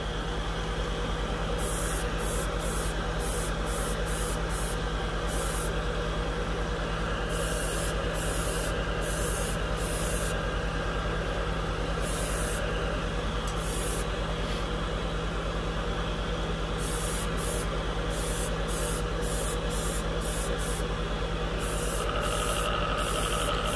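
A Badger 105 Patriot airbrush spraying paint at about 13 to 14 PSI: a continuous airy hiss over a steady electrical hum, with short repeated bursts of brighter spray as the trigger is worked.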